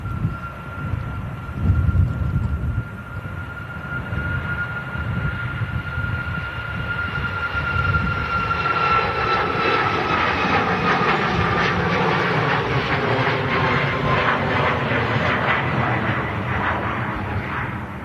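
A Ryanair Boeing 737-8200 airliner roars past at Manchester Airport, its jet engines building from a distant whine to a loud, steady rushing rumble that fills the air, with no talk.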